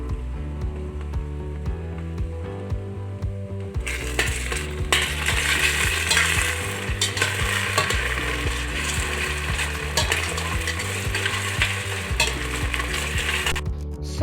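Ginger garlic paste hits a hot pan for a shrimp coconut curry, a steady close sizzle that swells louder after a few seconds, with clinks and scraping of stirring over a constant low hum, no talking.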